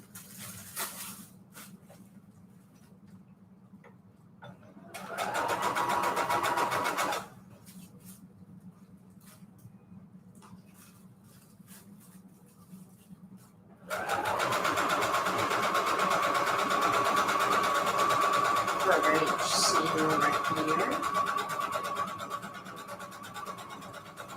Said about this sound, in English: My sewing machine here.